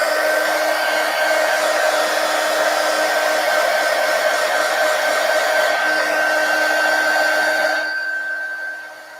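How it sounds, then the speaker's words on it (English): A handheld heat gun drying a coat of matte medium on an art journal page blows with a steady, loud whirring hiss for several seconds, alone without talk, then winds down as it is switched off at the end. "let me hit it with the heat gun for a second"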